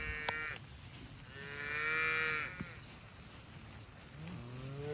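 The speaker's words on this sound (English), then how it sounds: "Got some happy cattle here, moving to their next paddock." Cattle being driven across a ranch to the next paddock low and moo loudly nearby, one long drawn-out call swelling in the middle with shorter calls around it over faint outdoor ambience.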